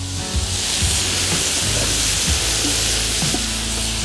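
Bacon and onions frying for a wild boar goulash, a loud, dense, continuous sizzle close by with some faint knocks of stirring.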